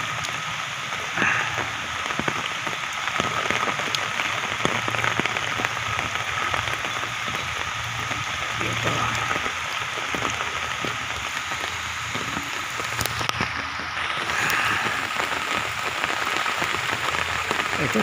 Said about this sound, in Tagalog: Ito lalong malakas namang ulan mga kaibigan dito sa Bacolod.